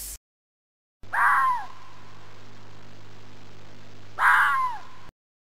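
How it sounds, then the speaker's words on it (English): A fox gives two sharp, rasping yelps about three seconds apart, each short and harsh, heard close over a steady low background hum. "Fox."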